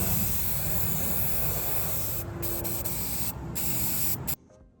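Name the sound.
spray painting cardboard marquee letters with black spray paint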